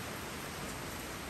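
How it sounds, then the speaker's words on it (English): Steady heavy rain pours down on a wet day of splitting firewood outdoors, a dense, even hiss throughout with no other sounds standing out. "Pretty rainy."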